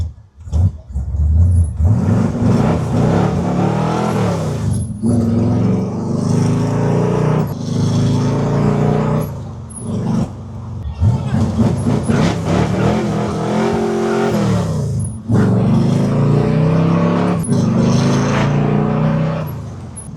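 A 1969 Chevy Camaro restomod with a race-prepped Smeding 540 V8 roars loudly as it drives, revving hard and dropping back between gear changes, with a deep rumbling exhaust throughout.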